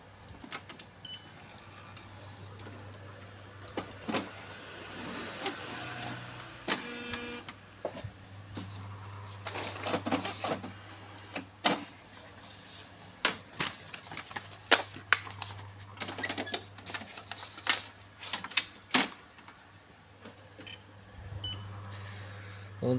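A Canon MX497 inkjet printer powers up with its scanner unit refitted, giving a steady low hum, rapid mechanical clicks and whirring carriage movements in irregular bursts, with brief quiet speech at times.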